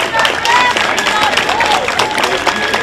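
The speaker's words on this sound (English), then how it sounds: "Big good round of applause." An audience at a junior livestock show claps in a brief, dense burst of applause, close and fairly loud, with faint crowd murmur mixed in.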